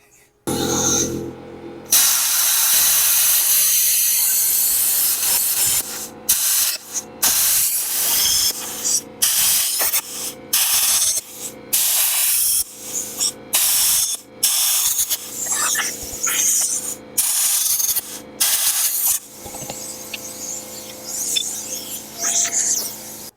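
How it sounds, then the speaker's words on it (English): New plasma cutter torch fed by an air compressor, cutting metal during a CJ-7 build, gives a loud, close, steady hissing roar broken into many short bursts with brief silent gaps between cuts. "I got a new torch on here because that last one I tried to replace the electrode was all tore up inside."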